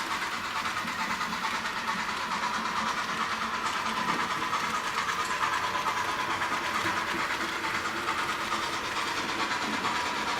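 A model train locomotive running on its track gives a continuous, even mechanical whir and hiss with a faint rhythmic clatter, steady and unchanging from start to finish.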